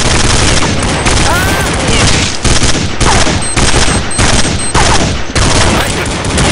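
Gunfire rattles through a competitive video game shooter match in loud, dense, near-continuous rapid bursts. A few short breaks cut into the firing.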